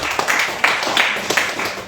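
Church congregation giving a short round of applause to the Lord during a sermon, steady clapping with a few louder individual claps for under two seconds.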